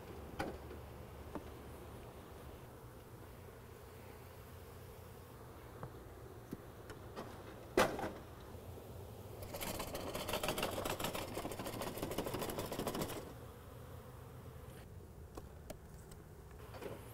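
Bees buzz steadily at a moderate distance as they are shaken off hive frames, swelling louder for a few seconds midway, with occasional sharp clicks and knocks.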